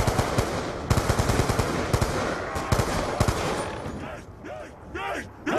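Rapid bursts of automatic gunfire in Black Ops 2's Die Rise zombies mode, dense and loud through the first few seconds, then thinning as warbling game effects and a voice-like sound take over near the end.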